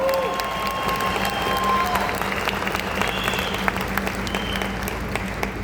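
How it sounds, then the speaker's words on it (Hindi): Audience applauding loudly for the women at a business event, a dense, steady wash of clapping from a crowd throughout, with a voice briefly heard over it. "इसलिए लेडीज के लिए जोरदार तालियां।"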